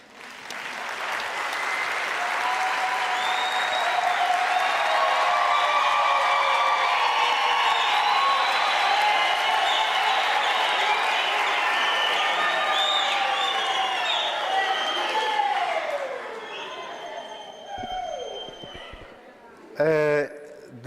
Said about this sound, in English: Why don't we clap for them?